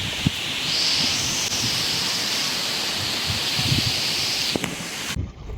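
A steady, hissing wind blows at the foot of Phnom Da mountain. The broad rush is fairly even throughout, with a few faint knocks, then cuts off at the end.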